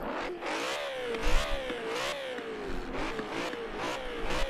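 BMW E92 M3 GTS engine in Forza Horizon 4 revving loudly and continuously, pitch rising and falling through several gear changes, with no talk over it.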